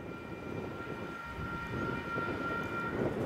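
A Union Pacific freight train passes on track two as a westbound: a steady, heavy rolling rumble of wagons that swells slightly toward the end, with faint sustained horn-like tones above it and no voices.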